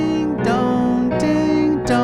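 A piano playing the repeating ding-dong figure from a song, three bell-like chord strikes in an even rhythm, close and clear with nothing else over them.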